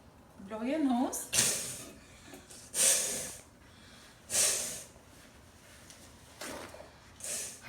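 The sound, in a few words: blowing the nose after neti pot nasal rinse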